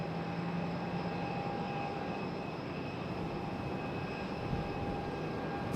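A CRJ 900 regional jet roars steadily at Raleigh-Durham International Airport, a broad continuous engine rumble with a faint whine, heard from a distance with no voices.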